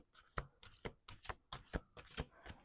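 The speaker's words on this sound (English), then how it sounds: "Let's do two more shuffles." A deck of playing cards shuffled repeatedly at a table, giving a rapid series of crisp riffling bursts, about seven in quick rhythm, close and fairly quiet with no talking.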